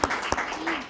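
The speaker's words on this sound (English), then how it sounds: "So I think that deserves a round of applause." A brief burst of crowd applause, many hands clapping together at a moderate distance.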